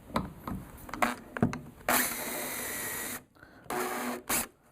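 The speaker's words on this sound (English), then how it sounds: "what we're going to use on one end is a pin mill" A pin mill with a 3/4 inch cutter head squares the end of an acrylic pen blank in a brass tube, giving a sustained grinding whir for over a second, then shorter cutting bursts between quieter handling knocks.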